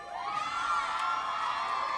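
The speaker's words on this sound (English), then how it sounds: "Just mention one name and the crowd goes crazy" A talent show crowd cheers loudly, a sustained wash of shrill screams and whoops from many young voices, steady and continuous throughout.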